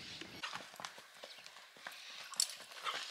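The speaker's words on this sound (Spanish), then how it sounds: "Un caballo que se pasea muy bien." A tobiano horse walking at an easy pace, its hooves clip-clopping in a steady rhythm on the ground, fairly close and clear with no talk.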